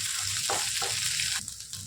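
Spiced mixture with ground cumin frying in a pan for potato pakoda, a steady close sizzle with brief stirring scrapes and bursts, continuous and fairly loud throughout with no voices.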